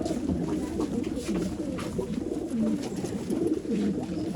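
Old line pigeons in a loft for sale in Bangalore cooing softly and repeatedly, close-up murmuring calls overlapping one another over a low background hum, with no talking.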